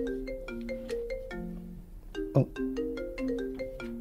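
A mobile phone plays a melodic ringtone at close range, with a repeating pattern of tones and a short bump of handling noise midway.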